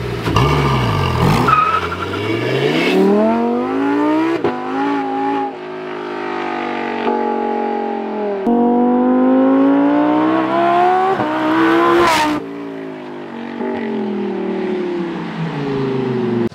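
A Lamborghini Huracan Tecnica supercar accelerates hard, its engine note rising loud and close through repeated climbing sweeps and gear changes, with a sharp burst of noise near the end.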